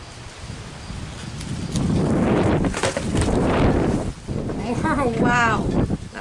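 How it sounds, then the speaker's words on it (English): Strong gusty wind blows outdoors during stencil painting, a loud rough rushing that swells and buffets the microphone while a person talks. "Wow, that's getting so windy it moved you."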